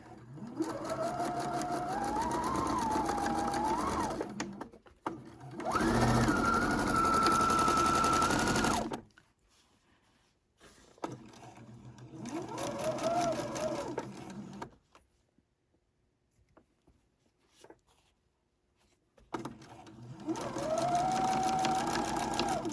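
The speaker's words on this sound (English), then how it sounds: "Each time it takes a stitch, the dog feed wants to pull the fabric on the bottom." Sewing machine stitching quilt fabric in several steady runs of a few seconds each, a close whirring hum separated by quiet pauses, with no voices during the sewing.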